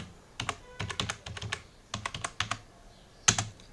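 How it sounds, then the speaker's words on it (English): Fingers type a tmux command on a computer keyboard running Ubuntu, with irregular bursts of close, crisp keystrokes separated by short pauses and a final louder, sharper key press. "If you want to create a window with name, then you have to type tmux new session"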